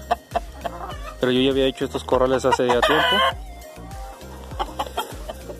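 Hens, some of them broody, and a rooster cluck and call loudly from homemade backyard pens and stacked cages, in a close burst of squawks as someone speaks Spanish over them.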